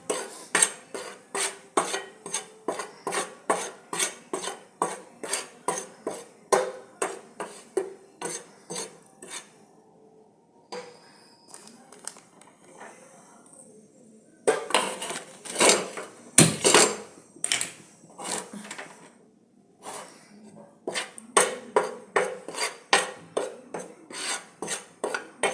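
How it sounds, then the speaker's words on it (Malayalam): A spoon scrapes rhythmically around a pan while sambar powder roasts, steady metallic strokes close up, pausing briefly midway before the stirring resumes. "ഇനി നന്നായിട്ടൊന്ന് വറുത്തെടുക്കണം."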